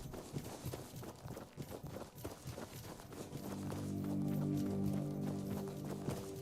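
Horse hooves clip-clop in the Tainted Grail video game, a rhythmic run of hoofbeats at moderate distance with some footsteps, giving way to a sustained tonal game sound in the second half.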